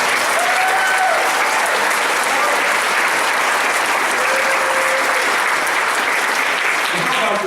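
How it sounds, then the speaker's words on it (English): Audience applause at a community holiday skit show, a steady wash of clapping from a crowd that holds loud and continuous throughout with little change. "Can we absolutely give everyone a round of applause for being here and being part of this?"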